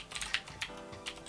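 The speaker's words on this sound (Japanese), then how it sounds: "本当にレーザーのキーボード、青軸最初のうちはいいんだけど" Razer mechanical keyboard with blue switches, typed on at close range: a quick irregular run of sharp clicky keystrokes, some louder than others, with no voice over them.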